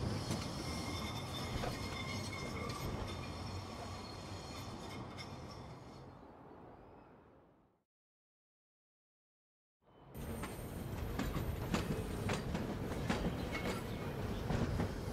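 Tram rolling along rails in Syberia: The World Before, a steady rumbling clatter with wheel noise that fades out into a few seconds of silence, then returns at full strength.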